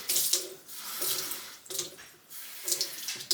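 Water poured from a container into a nearly empty home aroma diffuser, splashing in short bursts separated by brief pauses, close and moderately quiet.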